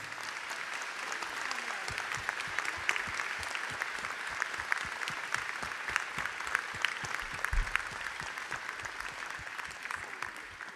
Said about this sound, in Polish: Rączki do góry, brawa.